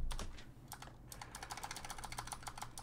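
Fast, crisp clicks of a computer keyboard as the plus and minus keys are tapped during a Prison Architect session, a quiet, close run of irregular keystrokes with no talking.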